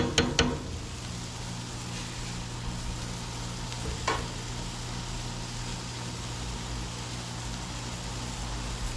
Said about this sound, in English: we got a little sizzle going on down here in the pan